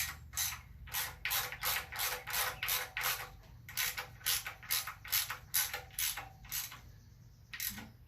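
A ratchet snugging down 13mm bolts on a Quad 4 engine timing chain housing, a close, steady series of sharp clicking bursts in quick rhythmic strokes, pausing briefly before a final few clicks.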